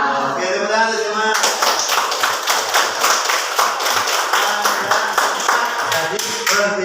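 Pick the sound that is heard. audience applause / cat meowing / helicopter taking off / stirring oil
audience applause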